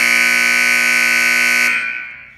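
Nevco volleyball scoreboard buzzer sounding as the clock hits zero: one loud, steady electronic blare that holds for nearly two seconds, then cuts and trails off quickly.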